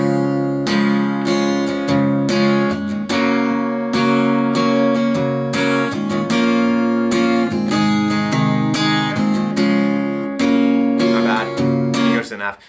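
Strummed with a pick, the acoustic guitar plays the chorus rhythm of a song as a quick down-down-up-down-down pattern with bright percussive attacks, close and loud, with no talking.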